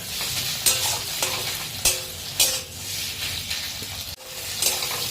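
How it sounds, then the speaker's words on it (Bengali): Chopped onion and tomato frying in a pan for mutton kosha, a close, steady sizzle broken by several sharp bursts as a spatula stirs and scrapes, with a brief metallic knock near the end. "পেঁয়াজের সাথে টমেটো কুচিটা দিয়ে দেবো, দিয়ে টমেটোটা গলা অবধি একটু ভেজে নিতে হবে"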